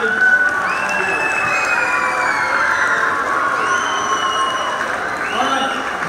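A crowd of schoolchildren at a first-day school assembly cheers and shouts for their teachers, a sustained high-pitched roar of young voices that holds steady from start to finish.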